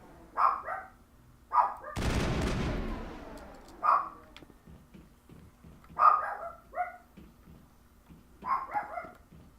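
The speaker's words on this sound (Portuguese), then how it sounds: "Meu cachorro é muito bravo." A dog in the Mass Effect 1 video game barks in short repeated bursts at steady intervals, loud and close, with a sharp burst of gunfire-like noise early on.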